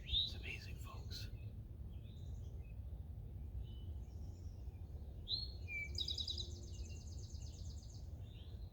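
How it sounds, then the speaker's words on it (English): Birds call from trees in a fern forest, with sharp chirps at the start and a rapid trilling burst midway. The calls sit over a low, steady outdoor rumble and come from a moderate distance, with no clear talking. "birds in the tree right now."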